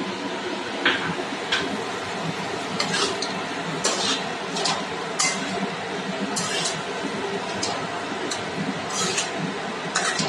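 A spoon scrapes and clinks against a pan as yogurt is stirred into chicken curry over a low gas flame. The scraping is steady and close, with brief sharp taps and someone talking over it.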